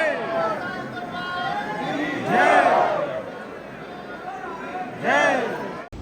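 A dense crowd at the normal entrance of Khatu Shyam temple, busy with pilgrims during rebuilding work: voices overlap in a close, steady babble, and loud shouts or chants swell twice.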